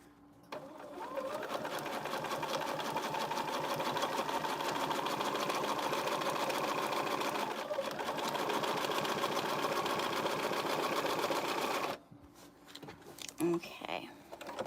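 Sewing machine top stitching along a zipper pencil case, a steady close hum of rapid stitching that runs without a break for about twelve seconds, then stops, leaving brief quiet handling and a few words of talk.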